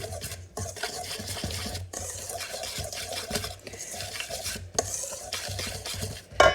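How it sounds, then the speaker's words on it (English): Baking powder and pink Himalayan salt being stirred into keto brookie batter in a bowl, a steady run of scraping, rhythmic stirring strokes broken by a few short pauses, close and moderately loud with no talking. "So we're just going to sprinkle that over the top and stir it again."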